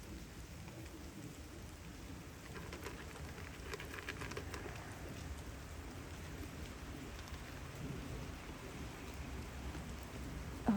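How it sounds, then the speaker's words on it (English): Rain falls steadily outdoors on a wet evening, a continuous soft hiss of drops spread evenly across the whole stretch, with no talking. "besides it being a rainy day right now"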